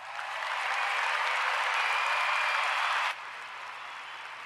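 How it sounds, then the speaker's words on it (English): A steady wash of applause swells in, holds at an even level, then abruptly drops to a quieter continuous clapping, sounding like a canned or distant crowd with no voices over it. "Round of applause."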